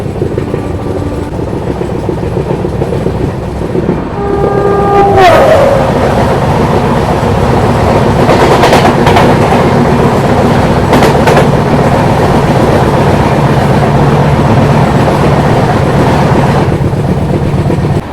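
A loud, continuous roar of the Tejas Rajdhani Express passing close by an AC special train between Delhi and Mumbai, with steady rumble, clickety-clack of wheels and brief horn tones early on.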